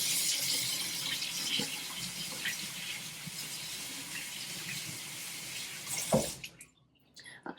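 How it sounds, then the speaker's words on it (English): Tap water runs steadily into a sink during handwashing, a close continuous splashing stream that cuts off near the end, leaving a few faint drips and handling noises. "so I wash my hands"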